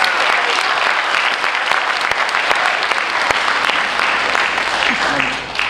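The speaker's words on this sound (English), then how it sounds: "remind the audience to refrain from cheering or booing or clapping during the candidate's response" A student debate audience breaks into dense, loud applause with scattered cheering after a candidate's statement, continuous clapping that fades slightly at the end.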